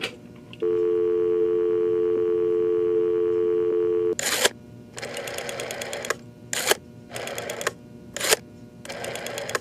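Telephone in a video game: a steady dial tone holds for several seconds, then a series of short crisp tone bursts follows as a number is keyed in, clean and close with no talking.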